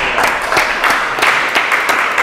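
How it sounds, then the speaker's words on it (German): Applause from a small studio audience reacting to a magic trick, steady dense clapping that holds at an even level throughout without talk over it. "das macht ja dafür einen Applaus erstmal"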